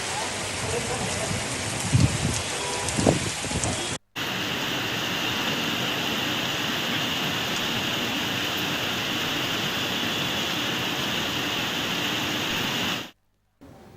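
Heavy rain pours down in Hyderabad, a continuous broadband hiss of downpour; the first seconds carry a few low thumps under the rain, then a steady, even roar runs until a brief break near the end.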